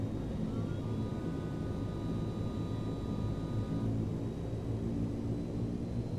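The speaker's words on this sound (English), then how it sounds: "Gonna have to let this plane come across the runway first. He's a lot bigger than me." A large airplane taxiing across a runway, heard from inside a small aircraft as a steady low engine rumble with a faint high whine.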